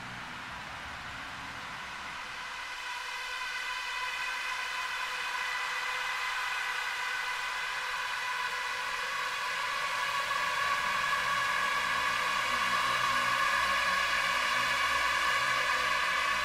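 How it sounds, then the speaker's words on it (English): A long, spacey synth pad drone from a Nova Drone Ableton pack swells slowly and holds steady, dense with layered tones and a soft noisy wash, alone and without voices. "Very complex drone there"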